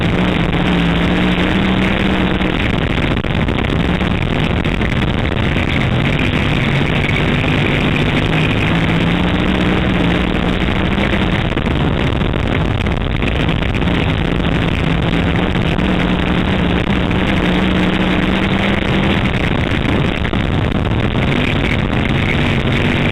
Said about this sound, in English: as Al Perkey takes us for a few laps down at the Great American Dirt Track in Jetmore, Kansas.